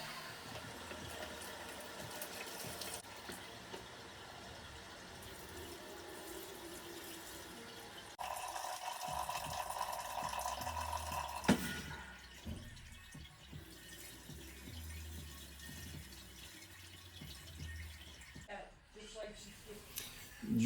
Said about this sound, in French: on va pouvoir utiliser l'eau pour rincer les drèches, donc rincer tout ça